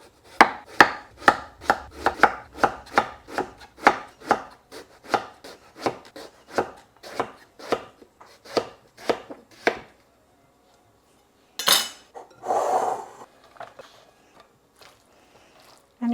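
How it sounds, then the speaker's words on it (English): A knife slices an aubergine into thin quarter-inch slices on a board, giving a steady run of about twenty crisp, evenly spaced chops up close, followed by a pause and a brief rustle of handling. "I'm going to slice the aubergine like 1/4 inch thickness, so quite thin actually slices."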